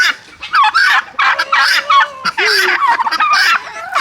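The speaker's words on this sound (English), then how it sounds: "Having turkeys." Turkeys on a farm gobble in loud, close bursts that overlap one another, with a few honking calls mixed in and no talk between them.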